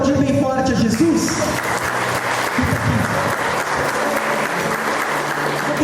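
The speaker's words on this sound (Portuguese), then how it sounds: "Vamos aplaudir bem forte a Jesus?" A church congregation breaks into strong, sustained applause, loud and steady, with voices and singing mixed in at the start and scattered speech underneath.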